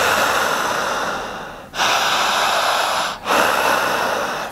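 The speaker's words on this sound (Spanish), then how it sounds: "vamos a respirar igual que yo" A group breathes hard and forcefully in unison during a breathing exercise, a loud sustained rushing exhale broken by two brief sharp inhalation pauses, close and without talk.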